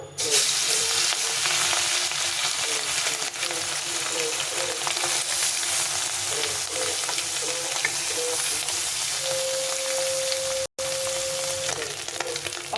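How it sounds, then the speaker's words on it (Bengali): Small chun fish fry in hot oil, giving a loud, continuous close sizzle with light bubbling crackle throughout and one brief dropout near the end. "এখন আমি মাছটাকে ছেড়ে দেবো।"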